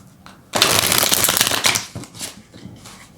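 A deck of tarot cards is shuffled up close in one continuous riffling, papery flutter lasting a few seconds, then settling into lighter taps and slides.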